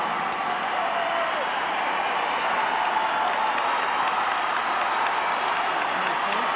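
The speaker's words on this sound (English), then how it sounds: "amidst the applause" A crowd at a 1984 boys high school basketball playoff game applauds and cheers an on-court milestone celebration for a player, a dense, steady wash of clapping that fills the gym for the whole span.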